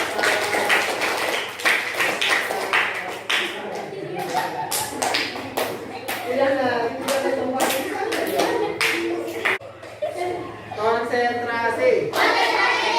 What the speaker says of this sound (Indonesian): Tepuk tangan kalau kita